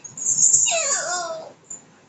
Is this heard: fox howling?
yes